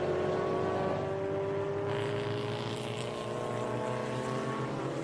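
A 1958 Corvette, car number 56, is driven hard around a race track, its engine a steady loud drone with rising and falling tones held throughout, no voices over it.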